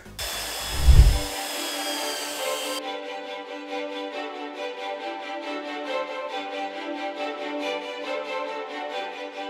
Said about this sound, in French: je vais terminer de poncer